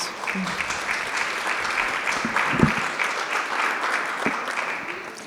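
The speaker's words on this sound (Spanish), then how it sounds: "Sí, un aplauso." Audience at a panel discussion on autism breaking into applause, a moderate crowd of hands clapping steadily in a room, with a few sharper individual claps standing out.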